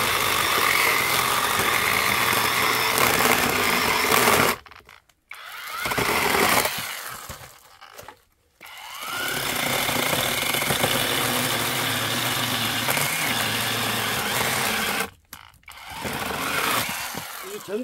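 A gasoline chainsaw engine drones loudly and continuously, cutting out briefly a few times before revving back up; a voice speaks faintly underneath.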